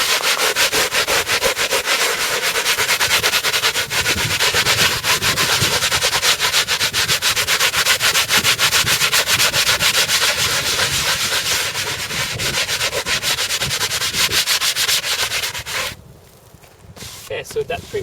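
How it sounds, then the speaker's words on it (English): Salt is scrubbed off a sheep hide with a continuous, close, loud rough rubbing and scraping that goes on for many seconds before trailing off, with a voice faintly present. "I'll just scrub that corner real quick and show you"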